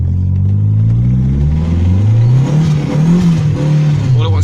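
A turbocharged car accelerates hard, recorded from inside the cabin, its engine droning loud and rising in pitch over a steady road rumble with interior rattles mixed in.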